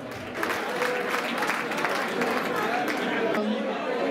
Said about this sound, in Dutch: een applaus te laten horen voor het bestuur van de wieken